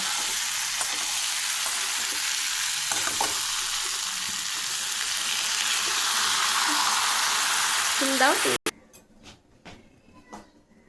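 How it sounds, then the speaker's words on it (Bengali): Water poured into a hot, sizzling paneer curry produces a loud, continuous hiss that fills the kitchen for several seconds before cutting off abruptly into quiet bubbling and small clinks. "এবার আমি এর মধ্যে জল দিয়ে দেবো।"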